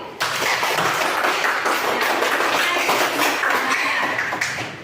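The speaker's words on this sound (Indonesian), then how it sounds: "Iya, tepuk tangan buat Piu." A class of pupils applaud a classmate, a thick continuous patter of many hands clapping close by that starts abruptly and keeps a steady level throughout, with no talking over it.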